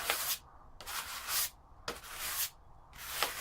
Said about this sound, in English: Time to finesse a bit by hand with the sandpaper.